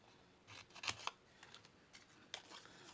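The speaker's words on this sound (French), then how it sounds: "Alors, là je coupe en deux." Scissors make a few quick, crisp snips as they cut a strip of paper in two while a paper Christmas rose is being made. The close, dry cuts have short pauses between them, and there is no voice.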